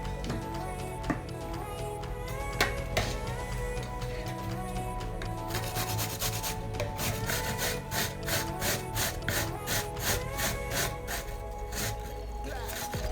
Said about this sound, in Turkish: Şimdi bunları güzelce rendeleyeceğim hepsini.